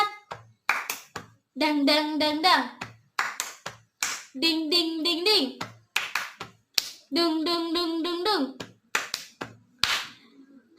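Children in a classroom play the tepuk semangat clapping game, led by a teacher: quick bursts of rhythmic claps alternate with short sung chant syllables, repeated in three rounds at moderate volume.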